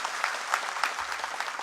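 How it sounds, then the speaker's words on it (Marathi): Audience at a large mill workers' rally in Satara claps in steady, scattered bursts, a lively but not thunderous round of applause filling the hall. "तुमच्या टाळ्यांमध्ये काही दम नाही."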